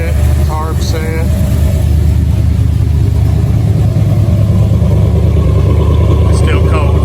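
Square body Chevrolet C10 truck engine idling cold after a tune-up, a loud steady low rumble running nonstop throughout, with a few faint higher-pitched noises over it.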